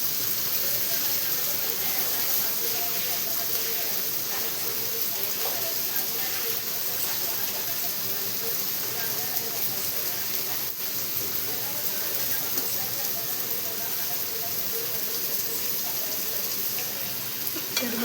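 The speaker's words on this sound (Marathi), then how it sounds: "तर चला आपण ह्या बाजूने पण मस्त असे कारले भाजून घेऊया" Bitter gourd pieces sizzle and fry in a pan with a steady, continuous hiss, while a person talks over the cooking.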